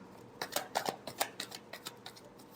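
Tarot cards riffle and slap together in a quick run of light shuffling clicks, faint and close, with no voices.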